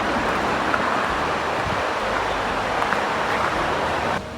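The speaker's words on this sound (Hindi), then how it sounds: "ये शोर सुन रहे हैं आप पानी के बहाव का?" Mountain water rushing down into a lake in the Lauterbrunnen valley in Switzerland, a loud, continuous roar of flowing water with wind buffeting the microphone, steady throughout and dropping slightly at the very end.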